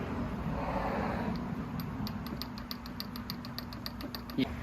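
Engine of a totaled 2004 Pontiac GTO idling during drivetrain removal, with a steady low hum and a light, regular tapping that repeats through the clip and ends in a sharper knock.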